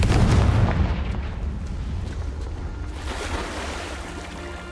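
Confringo spell explosion in Hogwarts Legacy, a heavy booming blast at the start that rolls off into a long, rumbling decay with crackling debris, no talking.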